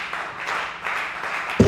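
A church congregation applauding and acclaiming during a sermon, a continuous wash of clapping and cheering voices throughout, ending with a louder burst.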